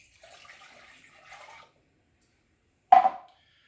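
Apple juice pours into a container for a pork chop brine in a soft, trickling stream lasting about a second and a half, followed after a pause by a brief, louder splash or clunk.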